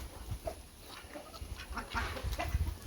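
Chickens clucking softly nearby in scattered bursts over a quiet outdoor background.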